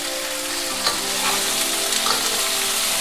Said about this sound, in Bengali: এবার এটাকে সুন্দর করে ভেজে নিতে হবে